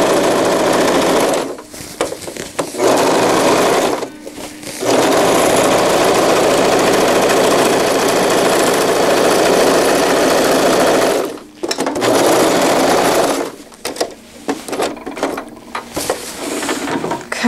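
A sewing machine top-stitches fabric panels of a zippered wetbag, running in long, loud continuous bursts broken by brief pauses, alone with no talk.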